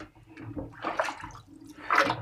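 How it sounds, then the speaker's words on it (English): Water runs and splashes steadily over parts from a cheap yard sale drill as they are rinsed during cleaning, rising into a louder gush near the end. "So we're going to give them a rinse."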